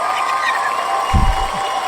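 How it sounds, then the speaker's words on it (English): A crowd cheering sound effect swells briefly over a steady background hum, a short burst of distant cheers and shouts. "All that cheering. It's for you."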